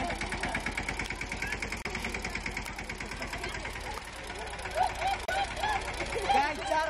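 A tractor engine runs steadily during a tug of war against a team of people pulling it, a rhythmic chugging idle under someone talking, with shouts and strained voices rising toward the end.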